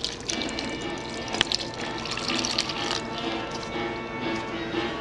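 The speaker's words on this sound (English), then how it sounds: "add the water" Water poured from a container into pancake mix in a home kitchen, a steady splashing and trickling stream with a few light clinks, close and continuous, with no talking.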